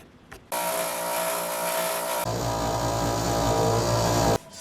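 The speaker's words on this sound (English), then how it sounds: "I'm going to cut this out on the bandsaw." A bandsaw cuts through wood for a headboard, its steady loud whine starting abruptly, deepening as the blade bites, then stopping.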